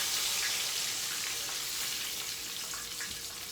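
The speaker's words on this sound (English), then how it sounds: "it's good to use peanut oil when you're frying" Chicken wings frying in hot peanut oil, a steady close hiss and crackle of sizzling grease, continuous and even with no talk.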